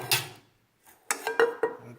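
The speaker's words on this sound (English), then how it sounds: "These are just little pressed aluminum pans." Small pressed, anodized aluminum camping pans handled up close: one light clink, a short pause, then three sharp metallic taps and rattles in quick succession.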